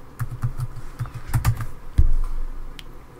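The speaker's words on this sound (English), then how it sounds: "Now we're going to type in the password." A password tapped out on a computer keyboard, a quick run of close, crisp keystrokes in an even rhythm followed by a few heavier, louder presses near the end.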